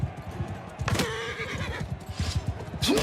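A horse whinnies in a video game over a busy backdrop of rapid hoofbeats and clatter, with a second shorter neigh near the end.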